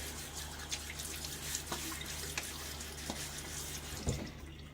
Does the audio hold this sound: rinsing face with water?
yes